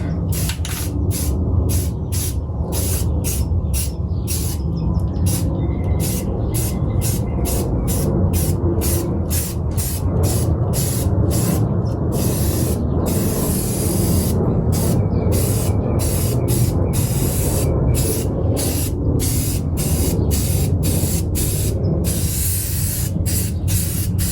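Self-etching primer hisses from a spray can onto BMW Z3 body panels in a garage, in many short and long bursts with brief gaps, loud and close, no talk.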